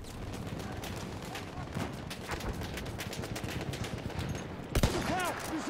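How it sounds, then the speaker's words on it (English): Machine gun fire in Battlefield 1 multiplayer on PS4 rattles in dense, rapid bursts throughout, mixed with distant shots, plus one sharp loud report near the end as a voice speaks. "Look out, machine gun."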